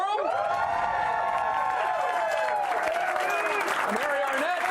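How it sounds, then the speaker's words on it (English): An audience at the Forum arena applauds and cheers at a live show, a sustained roar of clapping with whoops and voices rising on top, loud and continuous throughout. "that's supposed to be big applause. We'll try that one more time."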